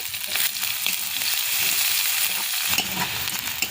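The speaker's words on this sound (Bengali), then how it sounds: "ফোড়নে দেব কালো জিরে কাঁচা লঙ্কা আর দেব পেঁয়াজ কুচি এগুলোকে হালকা ভাজা ভাজা করে নেব" Onions, green chilies and nigella seeds frying in hot mustard oil, a steady loud sizzle with a few stirring scrapes, heard up close without speech.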